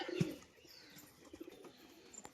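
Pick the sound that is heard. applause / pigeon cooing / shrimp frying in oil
pigeon cooing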